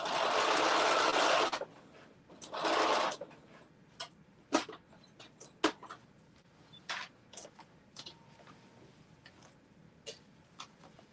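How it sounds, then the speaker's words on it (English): A sewing machine runs in two loud bursts as it stitches a tunic's side seam from sleeve to opening, followed by scattered clicks and ticks. "I'm sewing up the other side from the sleeve down to the opening."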